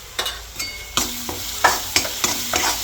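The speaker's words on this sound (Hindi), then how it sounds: "अब ये अदरक लहसुन की पेस्ट हमारी भून गई है।" Ginger-garlic paste frying with onion, cumin, salt, turmeric, red chilli and coriander powder, loud close sizzling with repeated rhythmic stirring scrapes and clanks of a spoon in the pan, no talking.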